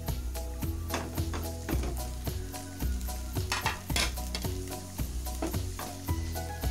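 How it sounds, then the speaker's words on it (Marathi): Tomatoes sautéing in a pan for butter chicken, a steady sizzle broken by repeated clinks and scrapes of a utensil stirring, close and fairly quiet, no voices. "टोमॅटो छान परतले गेले आहेत."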